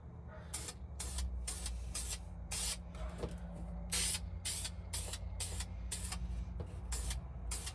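An aerosol can sprays paint onto an interior part from a 50-year-old Ford F-250 truck, giving a rapid series of short, close hissing bursts with brief gaps, steady and rhythmic throughout.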